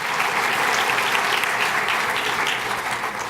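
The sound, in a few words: audience applause for a marketing team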